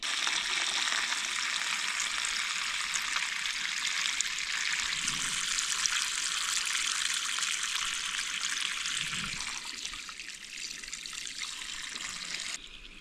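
Water poured onto a garden gazebo base runs steadily across the surface, a continuous close hiss and trickle that fades slightly toward the end.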